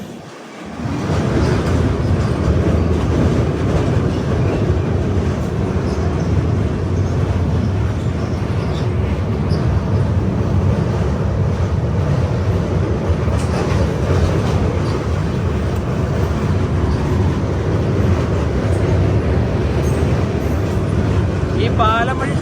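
The Saraighat Express runs across the Brahmaputra rail-cum-road bridge, a loud, continuous rumble and rhythmic clatter of wheels on track that holds steady throughout, close and enveloping, with a brief thump at the start.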